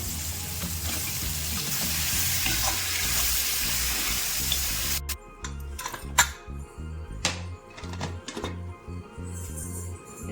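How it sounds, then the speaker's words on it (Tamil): Cleaned crab added to a pan of sautéed tomatoes, giving a steady loud sizzle and hiss that drops off midway. Sharp clinks and knocks of a utensil against the pan follow, close by and with no talking. "ரெண்டு தக்காளி கட் பண்ணி வதக்கிட்டேன் இப்போ க்ளீன் பண்ண நண்டு சேர்த்துக்கலாம்"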